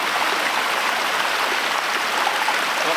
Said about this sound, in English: never had a babbling brook beside this one, so this is really nice